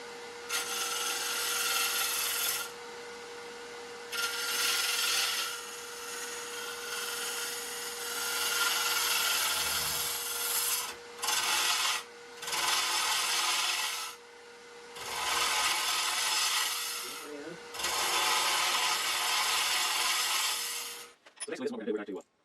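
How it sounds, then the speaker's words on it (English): Repeated bursts of a wood lathe hollowing out a wooden cremation urn, cutting and scraping inside the spinning piece, loud rasping stretches separated by short pauses. "We're just going to start hollowing."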